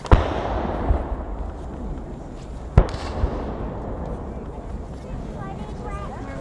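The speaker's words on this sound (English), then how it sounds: "These weapons are black powder weapons." Black powder guns fire at a Civil War battle reenactment on an open field: two sharp, booming shots a few seconds apart, with wind noise and people talking in between.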